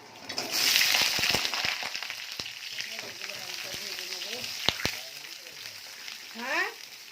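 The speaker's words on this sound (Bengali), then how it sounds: "আলুগুলো ভাজা শেষ এখন উঠিয়ে নিচ্ছি" Potatoes frying in hot oil in a pan, a loud close sizzle that settles into a softer crackle, with scattered sharp clicks of a utensil and a brief whoosh near the end.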